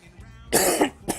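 A single person coughs harshly twice in quick succession, close and loud, following a quiet stretch with faint background tones.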